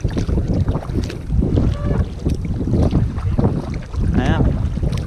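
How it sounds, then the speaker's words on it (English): Sea waves slap and splash against a kayak off the Norwegian coast, with irregular close sloshing, strong wind buffeting the microphone and a couple of short vocal sounds. "See the waves getting a bit bigger, innit?"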